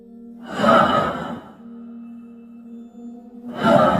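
Eerie breathing in a horror story, with two slow, heavy breaths separated by a low droning hum, close and exaggerated like a sigh or gasp, with no speech.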